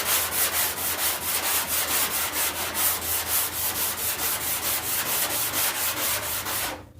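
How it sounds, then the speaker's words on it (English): Steady rhythmic scratching of a sandpaper block on a truck bed panel in a crosshatch pattern, regular back-and-forth strokes about three per second, close and continuous before stopping abruptly. "Sanding in a crosshatch like this."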